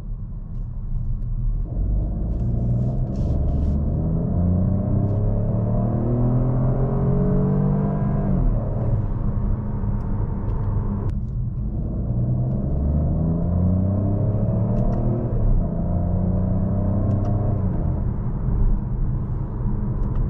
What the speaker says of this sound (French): Alors je vais me mettre en mode sport et je vais essayer de faire une petite accélération.